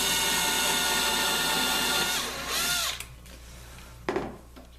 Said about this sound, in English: And then drilling this pilot hole.